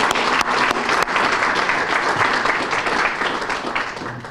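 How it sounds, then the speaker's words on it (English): Sustained applause from a graduation audience honoring program alumni, dense steady clapping filling the room for the whole stretch with a few sharper claps standing out near the start, no talk on top. "So please, round of applause."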